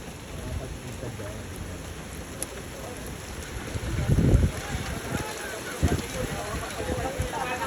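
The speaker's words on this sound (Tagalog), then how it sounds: "Inabot na kami ng ulan dito sa May Kawayan." Rain falls outdoors at a kite-flying tournament in Malabon, heard as a steady, dense hiss throughout with a few louder thuds and rustles.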